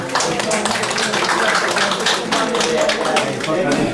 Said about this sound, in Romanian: Domnul Stoica, să-l aplaudăm, domnul Stoica la mulți ani.